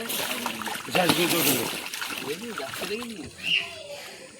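Rohu fish released into a pond splash and slosh in the water, several bursts close by, under voices talking throughout.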